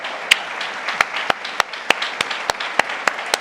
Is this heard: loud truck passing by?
no